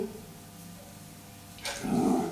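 A timid but protective house dog lets out a short, loud bark near the end, after a quiet, low-level stretch.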